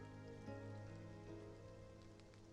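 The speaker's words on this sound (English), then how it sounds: "Look how heavy the rain is." Heavy rain in the video game Love and Deepspace patters softly and steadily beneath sustained musical tones, faint and continuous for a couple of seconds.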